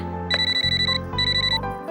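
A telephone rings in a Telugu film scene: two loud, steady electronic ring bursts close by, separated by a short gap, with no talking over them.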